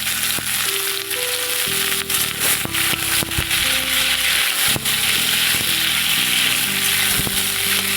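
Moringa drumsticks (sajne data) go into hot oil in a frying pan for an aloo posto dish, giving a loud, steady sizzle with occasional stirring clatter over background music.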